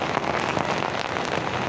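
Heavy morning rain pours steadily around a motorcycle ride through Jakarta streets, a loud, continuous wash of drops with no speech.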